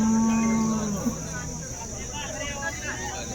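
A Holstein Friesian cow at a cattle market in Baramati gives one long, low moo close by, fading out after about a second, with people talking and a steady background hum.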